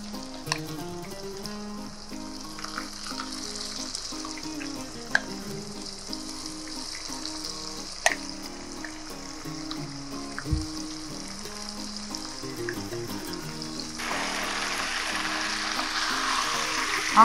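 Marinated chicken for achari chicken frying in oil with onions, a steady close sizzle with intermittent stirring scrapes and clinks, growing brighter and louder near the end.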